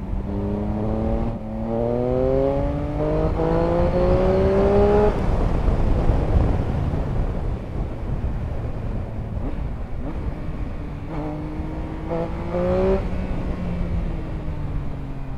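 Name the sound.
Triumph Speed Triple RS three-cylinder motorcycle accelerating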